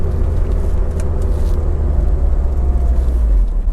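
A 1995 Porsche 968 under way, its engine a steady low drone with road and tyre roar, loud and close from inside the cabin, the pitch easing slightly downward near the end.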